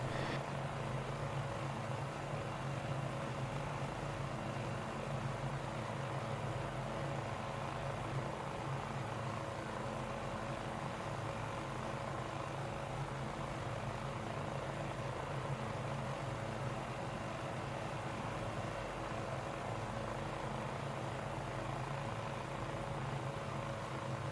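An MD-500 helicopter hovering in a flight simulator gives off a steady, unbroken engine and rotor drone at even loudness throughout, with no other sounds.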